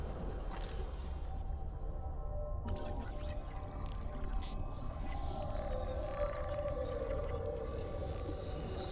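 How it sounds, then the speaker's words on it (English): Whale calls in the underwater video game Subnautica Below Zero, long low moaning tones drifting over a quiet ambient bed, distant and alone without talk. "Oh, I love the whale noises."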